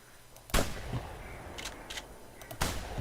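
Two sharp, loud shotgun blasts in the duck-hunting video game The Hunter, spaced about two seconds apart, with a few fainter clicks and thuds between them.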